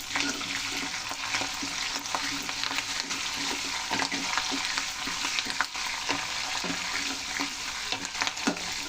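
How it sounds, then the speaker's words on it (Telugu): Cumin, mustard seeds, fenugreek and curry leaves crackle in hot oil while tempering for sambar, a dense continuous sizzle with scattered pops and spatters, close and loud throughout. "కొంచెం జీలకర్ర, 1 స్పూన్ ఆవాలు, వేసి కరివేపాకు కూడా వేసేసుకుందాం."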